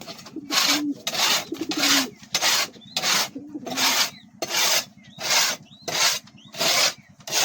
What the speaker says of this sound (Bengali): তো চলো প্রথমে এটা ঘষে নিই, তারপর ঝাঁট দিই।